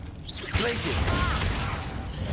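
The Glacius freezing spell from Hogwarts Legacy crackles and grinds with icy, shattering, mechanical textures over a steady roar of combat noise, loud and close, with a shouting voice partly overlapping.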